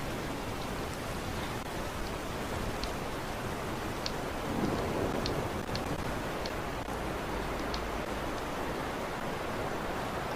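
Steady, even hiss of rain falling continuously in Skyrim, with faint scattered ticks over the constant wash and no voices.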